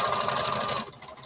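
A sewing machine stitching a patchwork bandana T-shirt dress runs at a steady close whir for under a second, then stops, leaving quieter handling noise.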